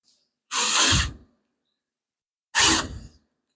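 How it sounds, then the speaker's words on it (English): Two short bursts of loud power-drill whirring, each under a second, separated by silence, drilling a hole during a 6.4 Hemi engine test stand build. "What hole are we drilling in here?"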